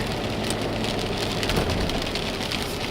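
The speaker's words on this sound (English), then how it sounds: "It's always, I think, a good sign when we get this sort of rain." Heavy rain falling steadily in a dense, hissing wash on surfaces, with a faint hint of traffic underneath.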